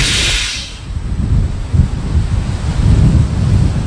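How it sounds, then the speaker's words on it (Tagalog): Strong typhoon wind roars in a continuous, heavy rumble during rain from Typhoon Yolanda, with gusts surging and buffeting the microphone throughout and no voices heard. "nakakaranas pa rin tayo ng napakalakas na hangin"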